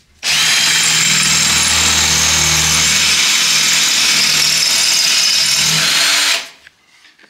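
A Lux A-BS-20 cordless impact drill with an 8 mm bit bores into concrete, a loud, steady, close whine that runs unbroken for about six seconds before cutting off.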